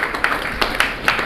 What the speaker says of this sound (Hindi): उनके लिए जोरदार आप तालियां से स्वागत करेंगे